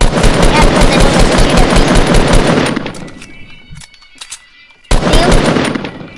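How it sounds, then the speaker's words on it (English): Loud, dense enemy gunfire in Fortnite, with rapid automatic bursts for nearly three seconds, a brief lull holding a few scattered shots and faint tones, then another loud burst. "Oh, they're shooting me. Oh, they lit me up."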